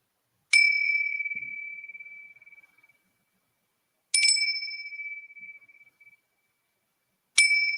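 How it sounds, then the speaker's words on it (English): Three separate struck bells ring out one after another, each a bright metallic strike with a long, steady hum that slowly fades, in an otherwise quiet room. "So I'll just ring the bells, and then Kimmy"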